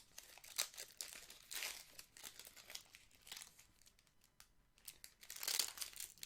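Pokémon card booster pack being torn open up close, quiet crinkling foil and short tearing bursts at irregular intervals.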